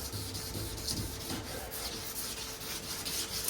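Hand sanding of the body of a 1932 coupe with 320-grit sandpaper, a continuous, close, even rasping scrub with a slight back-and-forth rhythm.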